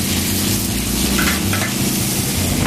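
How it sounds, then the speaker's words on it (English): Pork shoulder sears in a hot pan with a dense, continuous sizzle and crackle, loud and close, steady for a few seconds with no voices over it. "We're searing it to kind of create a barrier for the meat to kind of hold in the moisture"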